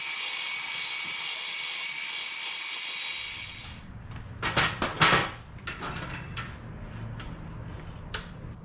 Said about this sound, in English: I'm just trying out this Evolution chop saw thing.